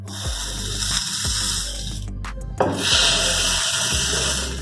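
Bitter gourd pieces are pressed down with a water glass holding a little water, giving a series of soft, dull thumps about once a second, each with a damp rubbing scrape, close and fairly steady.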